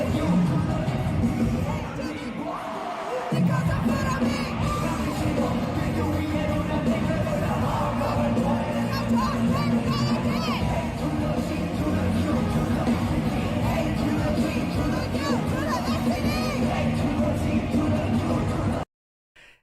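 A large concert crowd at a tour show roars and cheers continuously over loud music, a dense wall of voices and noise that stays strong throughout before cutting off abruptly.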